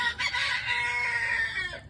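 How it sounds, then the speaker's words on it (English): A rooster crows once, a loud, drawn-out, raspy call lasting about two seconds, close by with a little background noise. "Got too many roosters."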